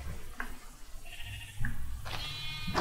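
Goat bleats from the video game Minecraft: a few short, nasal bleats spaced apart, the last one longer and louder, set against a quiet, low background hum.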